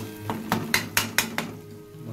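Ginger and garlic frying in a pan, stirred with a utensil in six quick rhythmic scrapes and clinks over a soft sizzle, close and fairly quiet, then the stirring stops.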